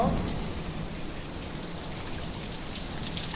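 Steady heavy rain pours down outside during a nor'wester storm with wind, a dense continuous hiss of drops with a low rumble underneath, no voices.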